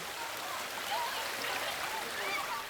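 Mountain stream on Wolchulsan in Korea, heard as a steady, fairly soft rush and splash of running water filling the scene without a break.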